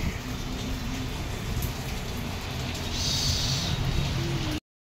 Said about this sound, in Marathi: पावसाचा जोर पण जास्तच आहे